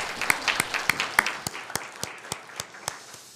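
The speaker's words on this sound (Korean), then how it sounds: "하나님께 박수 영광 돌립니다." Rhythmic clapping from a church congregation during a Sunday worship service in Korea, a steady beat of about ten to twelve sharp claps in unison that thins out toward the end, with a little scattered clapping underneath.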